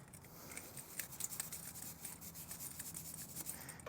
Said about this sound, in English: then I'm gonna brush it out